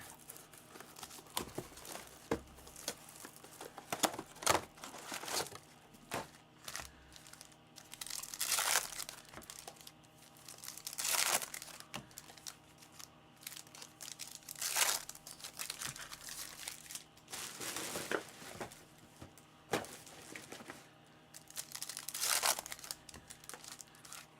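Plastic wrapping on a Panini Donruss Optic football hobby box crinkles and tears in repeated crackling bursts over about twenty seconds, close and fairly loud, with no voices.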